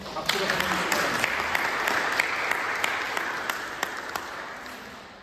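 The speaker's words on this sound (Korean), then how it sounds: "박수로 한번 주시기" Applause from a church congregation during a Sunday worship service fills the whole stretch, steady clapping with a few sharper individual claps standing out, gradually tapering toward the end.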